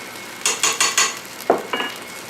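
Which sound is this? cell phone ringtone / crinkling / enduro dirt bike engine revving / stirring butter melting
stirring butter melting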